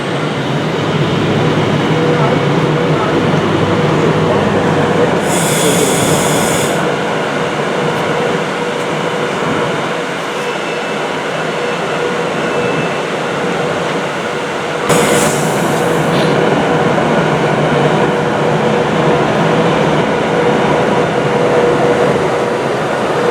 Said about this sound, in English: 390009 operating the lane running 1455 Avanti West Coast service to Edinburgh Waverley via Birmingham New Street.